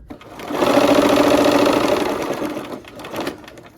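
A sewing machine stitches the final seam of a Christmas quilt block with needle down, a steady fast whirring run for about two seconds that slows and trails off into short bursts.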